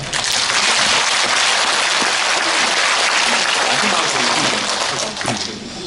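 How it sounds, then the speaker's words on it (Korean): Sustained applause from a large audience at an anniversary talk concert, dense and steady throughout before easing slightly near the end. "박수 한번 쳐주세요"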